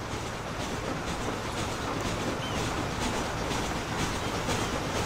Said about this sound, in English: Oh, look at the train!